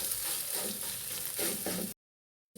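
Noodle seasoning sizzles and fries in a pan while being stirred, a steady close crackle with a few scraping stir strokes, then a short cut to silence before the frying resumes.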